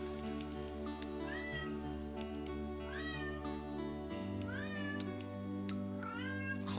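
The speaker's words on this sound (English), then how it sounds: "Cat. I'm gonna put you in the closet." A cat meows repeatedly nearby, four rising, drawn-out cries spaced a second or two apart over steady background game music.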